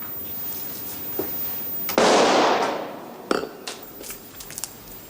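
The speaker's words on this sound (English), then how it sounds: "That was a gunshot, sir." A single gunshot goes off inside a dining room, a sharp loud burst with a noisy tail, followed by a few smaller knocks and pops against a quiet room background.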